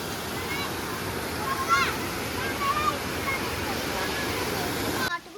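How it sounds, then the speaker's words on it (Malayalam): A forest waterfall roars steadily as broadband rushing water, continuous and fairly near, with faint voices and birdlike chirps above it. "വെള്ളച്ചാട്ടം കണ്ടതിന് ഞങ്ങൾക്ക് പേടിയായി."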